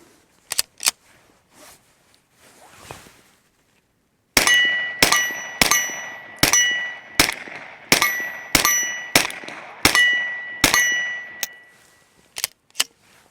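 Suppressed shots from a Springfield Hellcat Pro pistol firing 124 grain ammunition, a rapid string of about ten sharp, loud cracks with metallic ringing, preceded by a few isolated pops and quieter handling noise.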